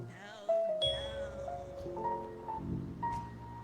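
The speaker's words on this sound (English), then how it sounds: "Let's make some music. Ring the bells." Chiming bell tones in a video game ring out in a short melodic sequence of clear pitched notes, layered over game music and effects.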